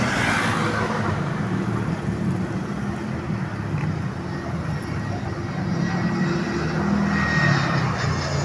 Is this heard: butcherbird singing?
no